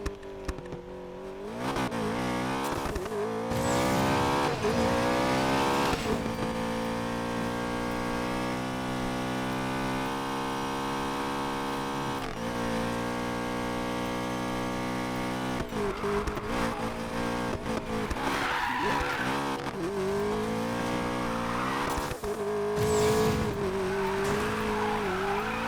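A car in the racing video game Need for Speed Payback accelerates and shifts through gears, engine whining up and down continuously while tires squeal and skid in repeated bursts, loud and steady throughout.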